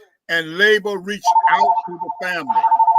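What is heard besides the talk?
mobile phone ringing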